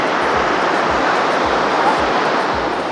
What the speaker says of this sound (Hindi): यहाँ से ये पूरा वाटरफॉल नीचे की तरफ जाता है।